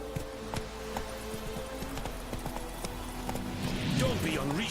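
Horse hooves clopping at a steady quick rhythm in The Witcher 3: Wild Hunt, moderately loud and continuous beneath game ambience and a voice speaking.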